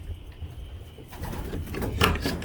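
Several male racing pigeons coo softly in a loft ahead of a training flight, low murmuring calls close by with some rustling, growing a little busier toward the end, no talk.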